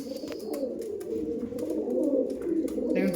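A flock of Giribaj pigeons brought from Uttar Pradesh, among them a kalpura kaldom pair, coo in a steady, overlapping low murmur, with occasional wing flutters and faint chirps mixed in.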